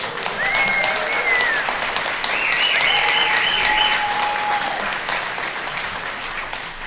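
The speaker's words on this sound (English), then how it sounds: "The talk show host gets the biggest applause line." Loud, sustained audience applause at a county legislator town hall on education, dense clapping from a crowd that swells and slowly tapers over several seconds, with a few faint whistles or voices mixed in.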